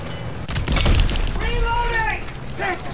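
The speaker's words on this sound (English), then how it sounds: "Tank destroyed!" Call of Duty WWII tank destruction in a Paris battle: booming, crackling blasts and metallic debris build over a second or two, with radio-style shouted voices and tonal signal sounds layered on top.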